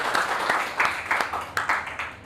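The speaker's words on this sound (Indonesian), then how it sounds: "tepuk tangan untuk kita semuanya" Classroom applause from a group of students, a short burst of rhythmic clapping with distinct regular claps over a couple of seconds.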